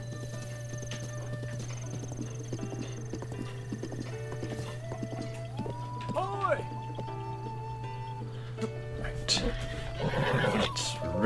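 Clip-clop hooves and a horse's whinny in Zelda: Breath of the Wild, set over a steady game hum and a soft tonal score, with someone talking across it and a louder burst of activity near the end.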